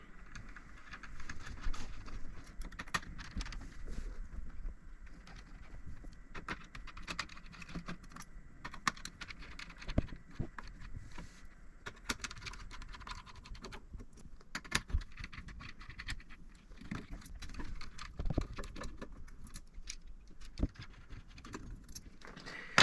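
Small screws come out of a VW/Audi touchscreen unit with light clicks, taps and clatter from the screwdriver and parts. The sounds are faint, close and scattered over a long stretch, and no one speaks.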